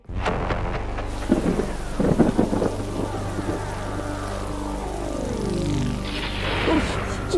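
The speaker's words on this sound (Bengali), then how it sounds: "বাজ পড়ছে রে বাবা" Cartoon thunder rumbles and cracks over steady rain, with deep rolling booms and sharper claps rising out of the constant downpour.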